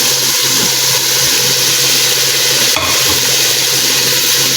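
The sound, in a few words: stirring tomatoes frying with ginger and garlic in a pan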